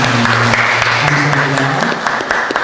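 A church congregation at Toronto Union Methodist Church claps together in a steady, loud, sustained round of applause, with a voice faintly audible beneath the clapping at the start.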